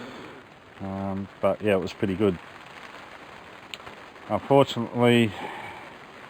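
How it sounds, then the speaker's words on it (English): Steady rain patters on surfaces outdoors on a cold, wet day, a continuous fine hiss of drops running throughout, with someone talking over it in short bursts. "the rain's come in."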